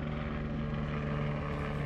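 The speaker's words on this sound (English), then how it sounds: "helicopter above" A helicopter flies overhead outside a school, a steady droning engine and rotor hum with a strong low tonal buzz, close and continuous for a brief moment.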